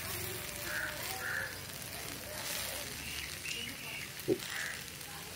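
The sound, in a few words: broad beans being sautéed in a pan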